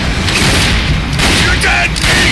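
Loud, dense bursts of gunfire and booming blasts from a Borderlands 2 shootout fill the whole stretch, with shouting voices mixed in over the continuous barrage.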